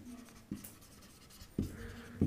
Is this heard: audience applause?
no